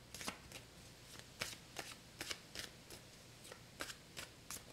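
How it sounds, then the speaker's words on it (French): Tarot cards are shuffled close by in quick, irregular riffling bursts with soft slaps and handling noises over a quiet room, with no talking. "puis je vais prendre 2 de mes cartes."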